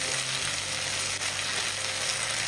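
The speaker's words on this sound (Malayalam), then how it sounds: "1 മിനിറ്റ് ഒന്ന് ഇളക്കി കൊടുക്കാം." Okra masala frying in a pan while being stirred, a dense steady sizzle filling the whole moment without pause, close and fairly loud, no talking.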